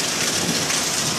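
Heavy thunderstorm rain pours steadily and loudly in a yard, a dense continuous roar of drops with a low rumble underneath, no voices present.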